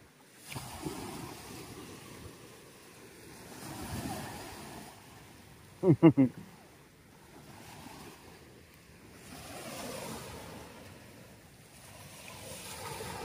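Ocean waves washing in steady, soft swells with wind noise on the microphone, and a brief louder knock in the middle.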